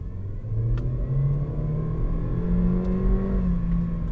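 A 2023 Honda Civic 2.0L RS e:HEV hybrid accelerating on the Sepang circuit, a steady mid-pitched engine drone with rising tones from inside the cabin, no talking.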